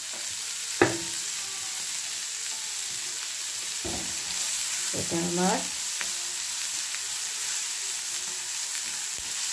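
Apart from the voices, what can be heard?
frying in a pan for lentil soup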